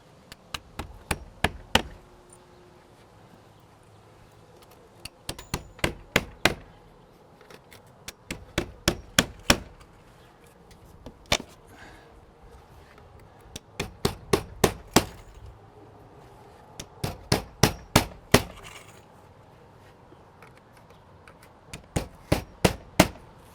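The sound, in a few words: hammering nails into window casing trim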